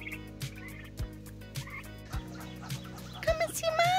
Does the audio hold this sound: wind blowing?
no